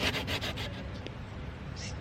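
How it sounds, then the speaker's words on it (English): A homemade car grill is wet sanded outdoors in the rain with quick back-and-forth rubbing strokes. The sound is close and rhythmic at first, then eases into softer scraping, with no talking. "is sanding it down till it gets smooth"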